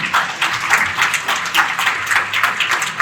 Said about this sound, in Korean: 큰 박수를 한번 부탁드리겠습니다